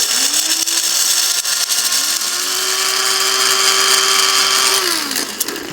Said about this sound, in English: Those seeds are really hard, so it'll take a little time to pulverize them.